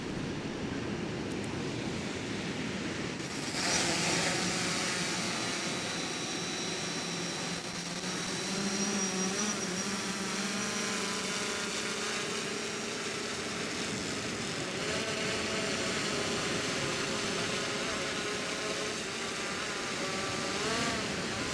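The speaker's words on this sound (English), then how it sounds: "I'll start videoing from the drone and get it up there." A fishing drone's steady high-pitched motor whine hums continuously as it takes off and flies, over a broad background of wind and surf, holding fairly constant throughout.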